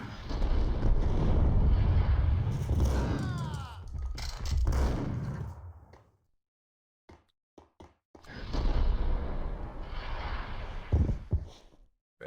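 Shotgun blasts in the video game Max Payne, several loud booming shots with rumbling tails in two bursts separated by a quiet gap with scattered clicks, heavy and close.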